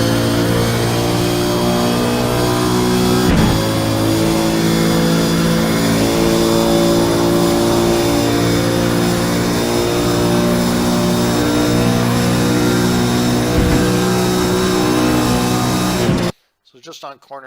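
A race car accelerating flat out at Monza holds a loud, sustained high-revving engine note at the top of its top gear, steady and close, with a brief shift blip and an abrupt cut at the end while the driver talks over it.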